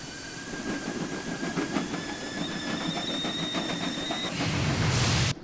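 A video-game train from Nancy Drew: Last Train to Blue Moon Canyon rumbles steadily along with faint rhythmic clatter and high whining tones, ending in a sudden loud burst of noise.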